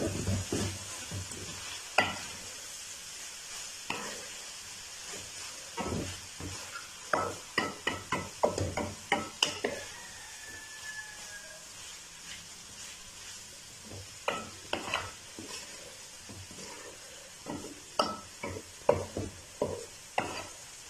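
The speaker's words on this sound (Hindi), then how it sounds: "तो अब यहाँ पे 1 अदद मैंने प्याज काटा था वो डालेंगे और इसको भी थोड़ी देर के लिए सॉफ्ट होने तक पकाएंगे" Chopped onion stir-fried in a pan for restaurant-style chicken chow mein: a steady low sizzle under irregular, close spatula scrapes and clacks, sparse at first and then bunching into quick runs of strokes.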